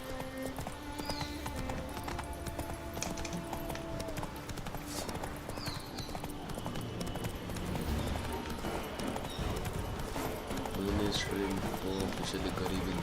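Roach, Geralt's horse in the video game The Witcher 3, galloping with rapid rhythmic hoof clip-clops and an occasional whinny amid game sounds, while people talk over it.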